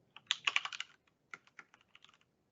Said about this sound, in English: I'll first type in my site name,